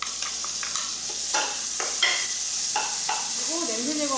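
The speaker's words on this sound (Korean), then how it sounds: "생강 볶아주시고 그리고 다져놓은 고기" Ginger and minced meat stir-fry in a wok with a constant loud sizzle, punctuated by repeated scraping strokes of a spatula and a faint murmur of voice near the end.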